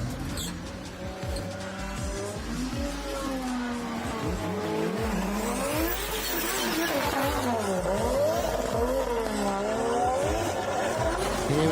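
Drift car at full throttle sliding very sideways at a D1GP Malaysia round, loud engine roar rising and falling continuously with screeching tire squeal layered over it throughout.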